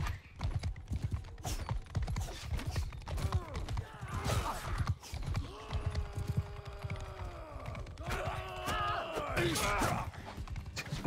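A horse galloping in a video game, with rapid hoofbeats thudding under battle noise, a whinny and a voice talking over it.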